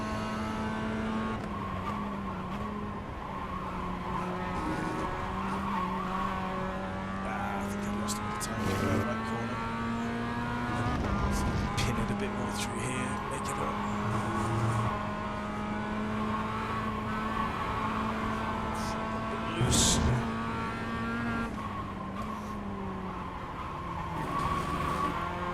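A Mazda MX-5 race car in iRacing is driven hard, its engine droning steadily and rising and falling with gear changes, with brief tire squeal and skid noise at points; no voices are heard.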